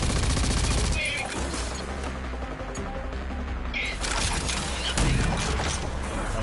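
Dense rapid gunfire in a video game, loud and continuous with bursts and impacts throughout, heard alone without talking.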